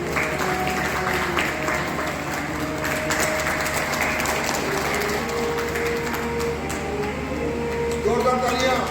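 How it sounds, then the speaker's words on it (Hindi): An audience at a Rotary Club ceremony honouring soldiers applauds, a steady wash of clapping running throughout, with someone speaking over it and some mechanical rattle in the background. "जोरदार तालियां।"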